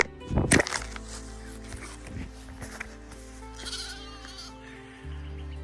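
Loud, close bleating from goats and sheep on a pasture farm, one burst early then scattered calls, over a steady low engine-like hum.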